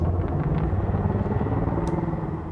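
Viper spaceship engines in the game Elite: Dangerous give off a deep, steady rumbling drone, close and continuous throughout, with a faint brief swish partway through.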